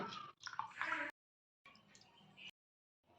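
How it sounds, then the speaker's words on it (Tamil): A lemon squeezed by hand for panakam, a jaggery summer drink, gives close, soft squishing and juice dripping in two short bursts with silent gaps between and a brief third at the end. "ஒரு எலுமிச்சம்பழத்தை புளிஞ்சுக்கலாம்"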